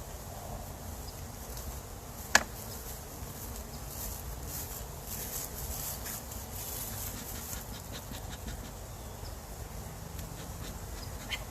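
Honey bees packed tightly on a hive frame, a low, continuous buzzing hum with a faint steady drone and one brief sharp tap early on.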